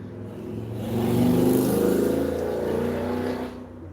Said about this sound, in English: The motorbikes are out.